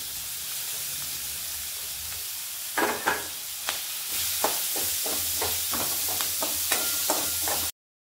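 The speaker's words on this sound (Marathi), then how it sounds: "थोडासा कांदा पण परतून घेऊ" Onion sautéing in a pan with curry leaves, a continuous sizzle broken by a series of sharp scrapes and stirring taps before it cuts off abruptly.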